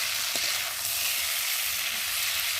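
Cauliflower coated in masala sizzles steadily in a pan while being stirred, a continuous close frying hiss with no talk.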